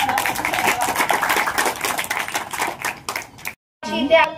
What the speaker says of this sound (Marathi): सगळ्यांसाठी टाळ्या